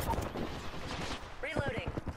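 Bursts of gunfire crackle and thump during an Apex Legends firefight, several rapid shots mixed with game sound effects, heard under voice chatter.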